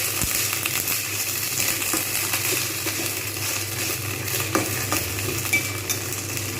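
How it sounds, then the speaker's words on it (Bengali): Okra fries in a pan with a dense, continuous sizzle, punctuated now and then by light scrapes of a utensil stirring the pieces. "এবার আমি এর মধ্যে দিয়ে দেবো ভেন্ডিগুলো ভেন্ডিগুলো ভালো করে ধুয়ে ভেজে নেবো"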